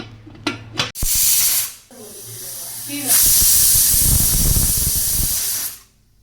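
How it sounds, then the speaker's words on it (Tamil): A pressure cooker on a kitchen stove releases steam with a loud, sustained hissing whistle, preceded by a few short clicks and an earlier burst of hiss, heard alone at close range. "மூணு விசில் வந்துருச்சு இப்போ வந்து நம்மளுக்கு விசில் அடங்கியதும் ஆச்சு"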